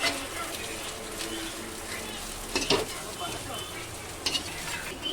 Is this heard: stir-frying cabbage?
yes